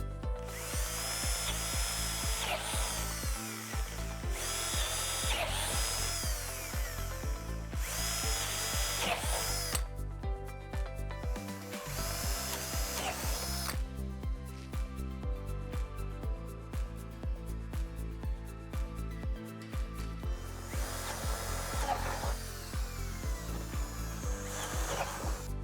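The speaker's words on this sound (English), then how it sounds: "It's as simple as clamping the drilling template to the form and drilling the holes." A power drill bores holes through a plastic column form clamped to a drilling template, close and loud, in repeated whining bursts separated by short pauses.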